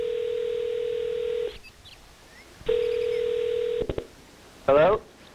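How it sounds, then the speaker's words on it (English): An outgoing telephone call rings through the earpiece in two long, steady ring tones separated by a pause, followed by a short burst of warbling tone, with people talking nearby. "I'm gonna listen to his phone ring."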